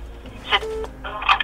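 A phone call to the police is being dialed in France: short bright tones from the handset rise over a steady low hum, close and clear, with no talk.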